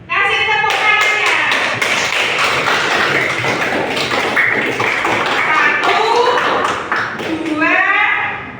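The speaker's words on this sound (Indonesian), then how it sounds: "Kasih tepuk tangannya." Children clap their hands together in a classroom, a dense run of quick claps mixed with their voices and singing, loud and close throughout.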